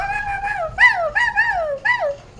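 A dog gives a string of high, wavering whimpers and whiny yelps, about five close, clear cries over roughly two seconds with brief pauses, with faint low background noise and no talking.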